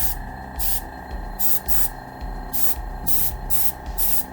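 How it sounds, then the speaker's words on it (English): Repeated hissing bursts of a spray can painting a TOTS 78 Myers model, several short sprays in an uneven rhythm, close and fairly loud. "I spray a little bit more on there"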